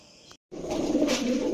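Pigeons in a pigeon shop, including Teddy and Hungarian Budapest breeds, give a short soft coo, with a brief pause before a fuller cooing phrase, close and fairly quiet.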